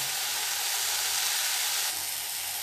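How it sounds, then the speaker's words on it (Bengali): Hot oil with turmeric stirred in sizzles steadily in a pan on a Bengali home stove, a dense, bright hiss that holds nearly constant and eases slightly toward the end. "এবার এদিকে তেলের মধ্যে হলুদ দিয়ে দিয়েছি, যাতে ছিটে গায়ে না আসে"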